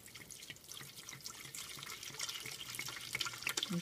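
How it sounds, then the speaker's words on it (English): Wine poured out of a bottle, a faint liquid glugging and splashing that grows slightly louder and more irregular as it drains, with no speech. "Then we're going to pour out"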